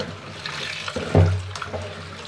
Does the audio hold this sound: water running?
yes